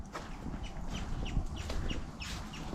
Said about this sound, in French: j'entends des oiseaux, j'entends des vols d'oiseaux inconnus